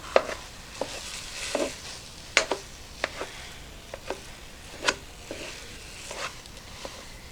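Cooked sausage for a lentil soup being broken apart with a spoon in a pot, giving irregular scraping and clinking strokes over a faint steady sizzle, close and alone.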